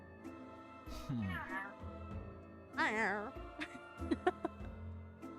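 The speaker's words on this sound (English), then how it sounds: "cat meowed at me" A cat meows twice in drawn-out wavering cries, close by, while a person talks quietly over and around the calls.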